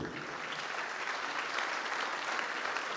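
Audience applause at a French group gathering sets a new-ambition talk apart, a dense, steady wash of many hands clapping at even loudness for about three seconds with no voices over it.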